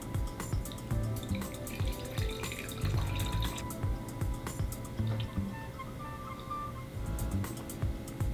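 Regular water poured into a glass indoors, a steady trickling and splashing stream that runs close and fairly loud for several seconds, with clinks and small drips between.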